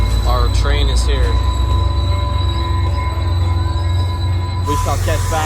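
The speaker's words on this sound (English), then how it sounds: "Our train is here." A train pulling into a station with its wheels squealing, high metallic screeches over a heavy low rumble of the arriving railcars, loud and close, with brief voices mixed in.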